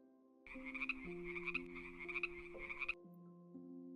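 A frog croaks in a steady run of rasping, pulsing calls for about two seconds, close and clear, over a soft sustained musical tone that continues after the croaking stops.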